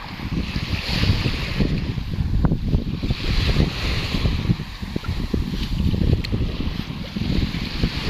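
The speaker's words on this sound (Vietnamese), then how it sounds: "Đây nó gió to quá nha mọi người nhé." Strong wind roars over the open sea aboard a fishing boat, with waves washing and gusts buffeting the microphone in a steady, loud rush.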